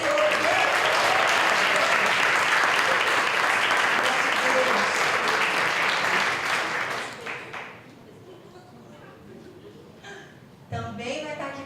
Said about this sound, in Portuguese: Por favor, aplaude o Senhor.